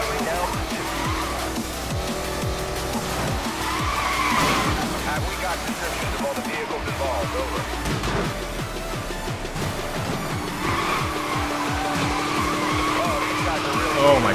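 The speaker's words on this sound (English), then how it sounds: "Those drifts are so satisfying." Tires screech and skid through a Chevrolet drifting in NFS Most Wanted 2012, loud sustained squeals layered over a revving race engine, while a player talks throughout.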